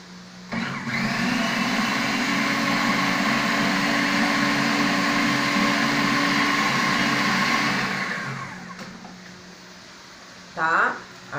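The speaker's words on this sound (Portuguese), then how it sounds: "agora eu vou ligar rapidinho pra bater" A kitchen blender whirs steadily for about seven seconds while blending a zucchini and corn mixture, then spins down, followed by a short burst pulsed again near the end.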